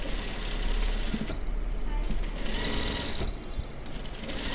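A sewing machine stitches a cross piece of fabric loosely, its steady mechanical whir running continuously with a slight pause partway, under faint background talk.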